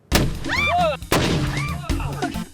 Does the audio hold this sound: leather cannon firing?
yes